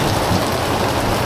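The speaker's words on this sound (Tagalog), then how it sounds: "Lakas ang ulan oh." Heavy rain pours down in a dense, loud, unbroken roar with no gaps or separate drops.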